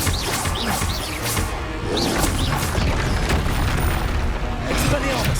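Confringo spell blasts from Hogwarts Legacy, a fiery hit exploding amid a dense, loud battle full of booms and crashes, with voices calling out over the clash.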